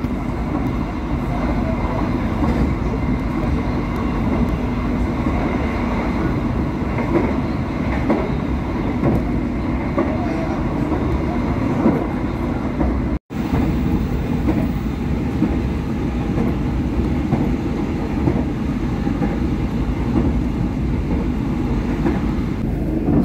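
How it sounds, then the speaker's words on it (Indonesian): Argo Cheribon passenger train running straight through Cikampek station without stopping, a steady, loud rumble of wheels and carriages that holds for over twenty seconds with a brief cut near the middle. "Kereta api Argo Cirebon melintas langsung di stasiun Cikampek."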